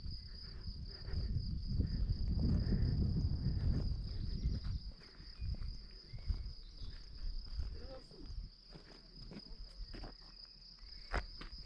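A constant high-pitched grasshopper chirring fills an Austrian meadow at Sankt Koloman, steady from start to finish, while louder rustling and handling noise dominate the first few seconds and a few soft voices drift in later.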